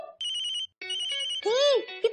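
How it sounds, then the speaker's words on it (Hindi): A mobile phone rings with a melodic electronic ringtone for an incoming call: a bright repeating tone, a short pause, then more ringing and a rising-and-falling warble, loud and close with no talk over it. "अमित जी कॉलिंग"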